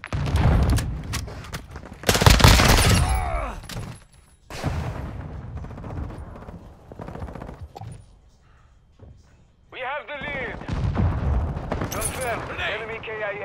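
Gunfire crackles through a Call of Duty: Modern Warfare 2 match on the Kunstenaar District map, sharp shots and bursts bunched in the first few seconds and again near the end, mixed under frequent loud talk from players.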